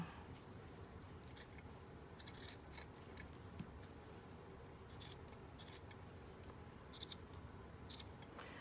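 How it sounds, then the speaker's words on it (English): Scissors snip steadily through fabric up close, with soft, regular crisp cuts and faint rustling between them. "I'm just kind of like pushing my scissors down and then pulling."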